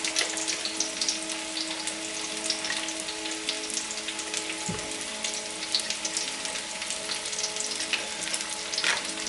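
Prawns sauté in a hot pan with a steady, even sizzle of frying that carries on throughout, with a single soft clunk near the middle and no voices.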